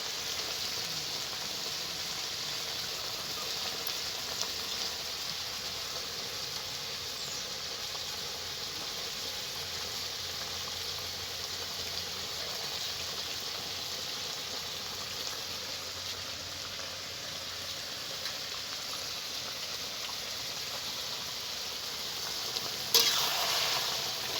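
Tomato sizzles and bubbles steadily in a hot pan as washed cashews, raisins and dates go in. The close, even hiss and crackle runs unbroken, with a sharp clatter near the end.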